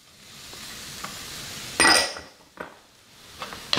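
Green beans and peppers drop into a hot pan with a sudden burst of sizzling, followed by a few clinks and scrapes of stirring against a quiet background hiss.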